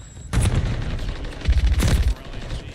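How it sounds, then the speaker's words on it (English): A grenade explosion in the Call of Duty video game, heard as a sudden loud boom followed by a second heavy blast amid rapid gunfire-like bursts, all fairly close and dense. "threw a grenade"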